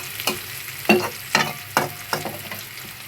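A spoon scrapes through food frying in a pan of teasel gourd and fish, five or six rhythmic strokes over a steady hiss of oil, close and fairly loud.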